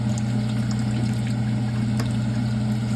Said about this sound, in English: Now I'm going to go in with the rest of my beef broth